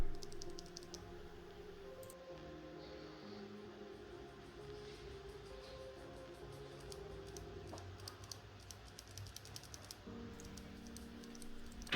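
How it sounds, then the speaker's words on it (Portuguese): Blue and brown mechanical keyboard switches pressed in a click test, a steady run of quick, close clicks and taps over a low background hum, with no talking. "Aí eu faço um experimento rápido de clique para vocês ouvirem,"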